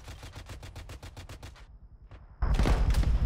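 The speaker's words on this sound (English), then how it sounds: "They're getting hit hard. By what? Machine gun." Machine gun fire in Arma 3: a rapid burst of about a dozen evenly spaced shots, a short pause with a single report, then a loud, dense roar of sustained gunfire.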